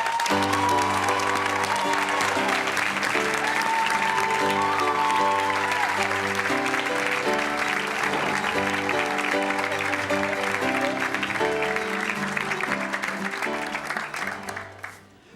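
Studio audience applause on a 1997 daytime talk show, greeting a guest's father and brother as they come out, sustained and steady under strong tonal music for about fourteen seconds before fading at the end.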